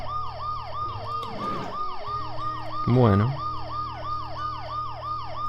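A wailing ambulance siren in a video game cycles repeatedly and loudly, with a brief spoken word and a low vehicle drone underneath.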